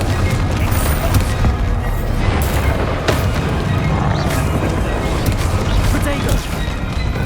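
Explosive spell blasts in Hogwarts Legacy combat, loud booming crashes and impacts over a dense, continuous battle roar with game voices speaking throughout.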